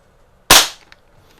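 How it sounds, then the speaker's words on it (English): A single pellet gun shot while sighting in a scope: a sharp, loud crack with a short decaying tail, then a faint tick a moment later, in near-silence. "It's a pretty cool pellet gun."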